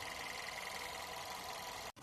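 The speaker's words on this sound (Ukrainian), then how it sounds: "Після проведених робіт двигун працює чітко і без зайвих звуків." A VW 1.2 TSI CBZA engine runs after its oil pump chain was replaced, a quiet, even idle hum with a faint steady whine that cuts out abruptly near the end.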